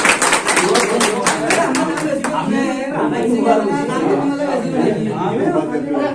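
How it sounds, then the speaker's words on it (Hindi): A village crowd at a temple election gathering claps in a quick, rhythmic burst for about two seconds. The clapping then fades into lively chatter, with several people talking and chuckling nearby. "तालियां तालियां तालियां।"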